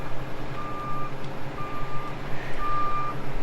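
A truck backs up on a logging site where a John Deere skidder builds shovel roads, its reversing alarm beeping steadily in long even tones over a constant low engine rumble heard from moderate distance.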